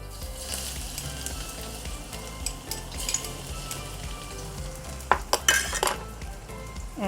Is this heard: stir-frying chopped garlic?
yes